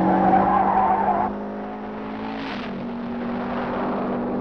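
A Modus M4 racing car drives a hill climb course, its engine droning steadily with a tonal whine. The pitch dips and shifts as the car slows and takes a bend, then settles again, and no one speaks.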